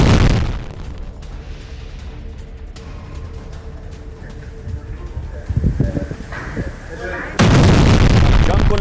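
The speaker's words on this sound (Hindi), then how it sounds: "ये देखिए, बुरखान मिसाइल दागी है उसने, हिजबुल्लाह ने इजराइल के ऊपर।" A Burkan missile launched by Hezbollah toward Israel, heard as a sudden loud blast at the start, then a distant rumbling roar with scattered thuds, ending in another heavy boom; no one speaks.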